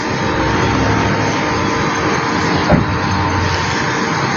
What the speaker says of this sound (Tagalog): Ito yung helicopter, oh.